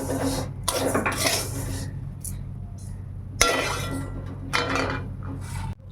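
Mung dal dry-roasted in a hot, dry wok, with repeated metallic clinks and scrapes of stirring in loud bursts separated by quieter stretches of low background rumble.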